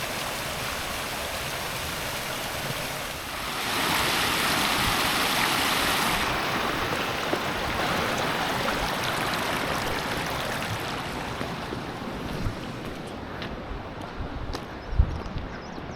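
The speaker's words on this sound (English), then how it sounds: "We got lots of little waterfalls." Small waterfalls and a rushing stream along a mountain trail in Ala Archa, Kyrgyzstan, give a steady broadband wash of water that swells slightly after a few seconds and continues without voices.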